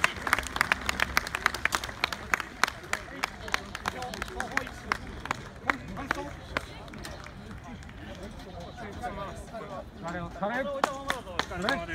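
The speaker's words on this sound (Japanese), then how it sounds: "皆様大きな拍手をお願いいたします。" An audience at a 2017 volunteer fire brigade pump competition applauds, giving dense sustained clapping throughout, with voices calling out and chatter rising near the end.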